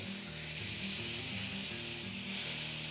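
Sirloin steaks sizzle in a pan just after being flipped, a loud, steady frying hiss heard close up over a low hum, with no talking.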